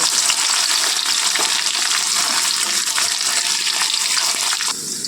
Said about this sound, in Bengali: পেঁয়াজ কুচিগুলো দিয়ে নিয়ে আমি ভালোভাবে ভেজে নেব